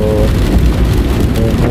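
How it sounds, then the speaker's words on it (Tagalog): Heavy rain pours in Las Piñas during a typhoon, a loud, dense and steady wash of drops that fills the whole clip, with a low vehicle rumble underneath and no talking. "sobrang lakas ng ulan dito ngayon sa Las Piñas"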